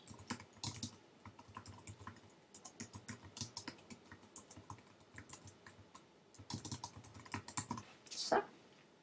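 Rapid, close typing on a computer keyboard while a Facebook post is rewritten, with irregular bursts of key clicks and a few heavier keystrokes near the end.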